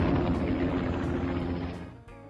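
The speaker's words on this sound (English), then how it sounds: "Helicopter." A helicopter's rotor and engine drone steadily and loudly nearby, a dense continuous whir that fades slightly toward the end of a short burst.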